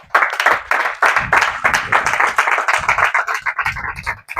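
A church congregation claps to acclaim the word of the Lord during a Christian sermon, with loud close rhythmic bursts of hands that come in quick irregular clusters, briefly pausing and then resuming until the end.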